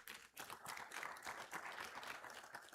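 Audience at the CCLCS 2025 graduation ceremony applauding, a faint, dense patter of many hands clapping steadily throughout without a break.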